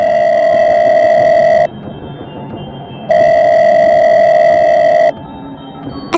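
A loud phone ringback tone repeating in long steady bursts with pauses between, two rings heard clearly with no talking.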